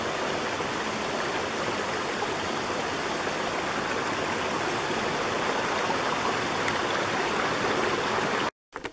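Rausch Creek flows along an abandoned railroad bed near Rausch Gap, a steady, close rush of running water that fills the scene without pause before cutting out briefly at the very end.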